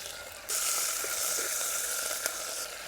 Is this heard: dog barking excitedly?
no